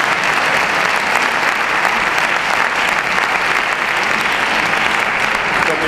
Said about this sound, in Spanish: Un fuerte aplauso para ellos que nos han traído este disco de Justicia.